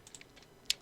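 A few soft computer keyboard key presses for shortcut commands in a graphics program, light scattered taps close by with one sharper click near the end.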